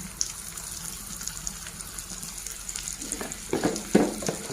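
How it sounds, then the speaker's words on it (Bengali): Wheat flour roti pieces tossed into a frying pan with spiced oil, a quiet sizzle building into several louder scraping and clattering bursts near the end. "এবার এখানে রুটিগুলো দিয়ে দিচ্ছি"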